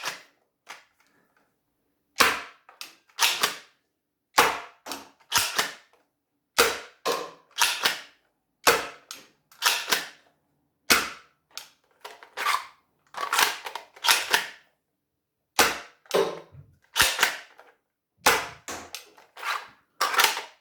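A Gecko toy blaster fitted with machined upgrade barrels fires foam darts in a long series of sharp, close snapping shots, each with a brief mechanical clack, spaced irregularly with short pauses.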